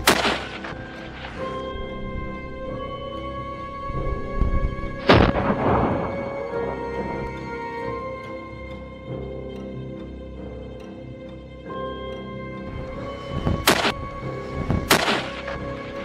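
Several sharp gunshots from a Winchester .308 rifle fired at dingoes in Australian bush, one heavy report early and two more close together near the end, each with a short echo over a steady background hum.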